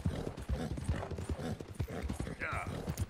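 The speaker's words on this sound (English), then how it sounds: "I love the way my horse sounds" Rapid rhythmic hoofbeats of a galloping horse in Red Dead Redemption 2 clatter steadily, with a voice talking over them.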